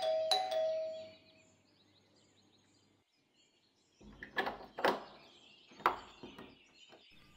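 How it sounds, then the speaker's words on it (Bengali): A doorbell gives a short two-tone ding-dong at the start, followed by quiet and then a few sharp knocks or bumps. "হঠাৎ কলিং বেল।"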